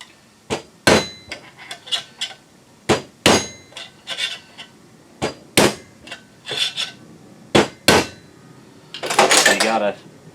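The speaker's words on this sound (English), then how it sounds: "You gotta kind of coax with the hammer to get the high spots in and latch." Hammer tapping a 4R70W transmission part into its seat during a Dana 20 swap, a series of sharp metallic knocks in irregular clusters, close and loud, ending with a brief rattling clatter.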